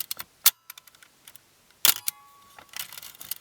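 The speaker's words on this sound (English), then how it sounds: "You can wind it on and it does this" Close, crisp mechanical clicks of a film camera with a metal shutter: a ratcheting wind-on followed by the sharp snap of the shutter, then more small clicks and whirring.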